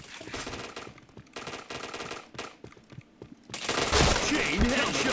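Rapid automatic gunfire in the shooter game Point Blank, loud close bursts of rattling shots broken by short pauses, then a denser, harsher barrage with faint voices underneath.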